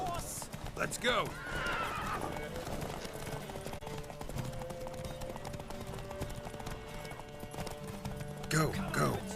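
A horse gallops hard in a race in The Witcher 3, with rapid rhythmic hoofbeats and a whinny near the start and again near the end, under voices shouting.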